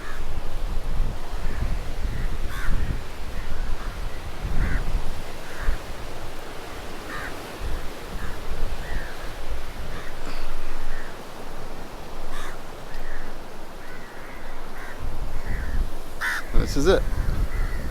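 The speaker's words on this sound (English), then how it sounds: "There's a lot of crows up here." Crows caw repeatedly in short, evenly spaced calls on Parrot Rock in Mirissa, Sri Lanka, over steady wind or surf, with a person speaking briefly.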